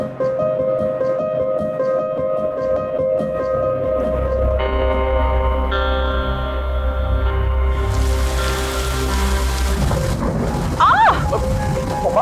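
Heavy rain pours down with thunder during a roadside drama scene, a loud, steady broadband wash building in the second half over music, with brief voices near the end.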